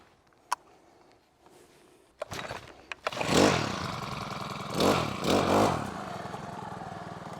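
A Makita EBH252U petrol brush cutter with handlebars starts up in the woods after a few knocks and clatters, then runs with a steady buzzing drone and two louder revving surges.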